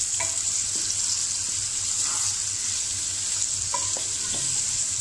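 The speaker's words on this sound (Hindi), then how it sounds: "प्याज को अच्छे से मिक्स कर लेते हैं।" Chopped onions fry and sizzle in a pan for palak chicken, a steady bright hiss with a few short scraping clinks as they are stirred, and a low hum beneath.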